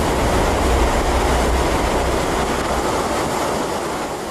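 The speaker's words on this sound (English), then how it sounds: "The powerful mass churns downstream, destroying anything and anyone unlucky enough to be caught in their path." A lahar, a volcanic mudflow of debris and water from Pinatubo, churns downstream as a loud, continuous broadband roar and rush with no breaks, steady and overwhelming throughout.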